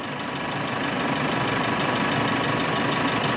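A Nissan Navara stuck in a puddle holds a steady, rough engine drone in second gear, close and continuous with a low knocking rumble and no voices.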